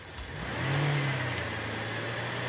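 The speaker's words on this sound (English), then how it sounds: "I'm going to raise the engine RPMs a bit." A car engine revs up from idle to a raised, steady hum and holds there, close and fairly loud, while the engine is checked for injector misfires.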